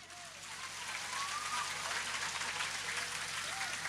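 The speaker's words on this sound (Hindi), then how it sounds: "बजाओ ताली।" Crowd clapping swells at an outdoor religious storytelling gathering, a broad steady patter of many hands that builds over the first second and holds at a fairly even level.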